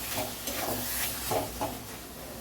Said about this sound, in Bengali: এবার এটাকে খুব ভালো করে ভাজতে লাগবে।